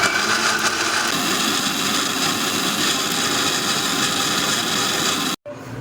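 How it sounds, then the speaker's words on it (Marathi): A mixer grinder blending tender fresh coconut with a little water into coconut milk, a loud steady whirring drone that runs continuously and cuts off abruptly near the end. "मिक्सर ग्राइंडरमध्ये आपण कोकोनटचे मिल्क रेडी करणार आहोत"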